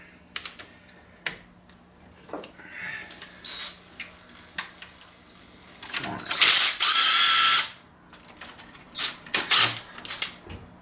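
A 5/16 socket ratchet loosening a hose clamp on a Cummins 4BT air intake: rapid clicking pawl bursts and scattered mechanical clatter up close, with a sustained harsh whir in the middle and a voice speaking briefly.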